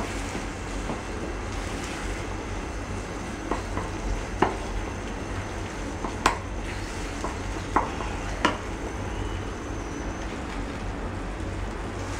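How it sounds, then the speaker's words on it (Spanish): Paprika and cheese stirred into a seafood soup base, a steady soft scraping and bubbling sizzle with a few sharper utensil knocks against the pot, close and continuous without talk. "Damos unas vueltas, mezclamos bien"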